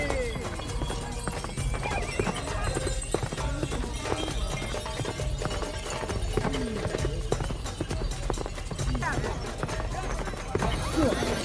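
Horses gallop in the Pasola mounted spear battle festival in Sumba, with dense rapid hoofbeats, occasional whinnies and a busy outdoor crowd, while a voice talks over the scene.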